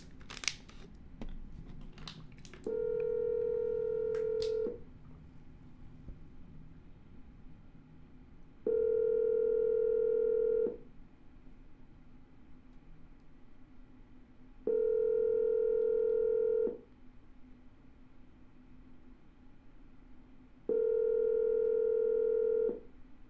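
A telephone call's ringing tone sounds through the line as four evenly spaced steady tones, each about two seconds long with roughly four-second gaps of low hiss, after a few faint clicks at the start.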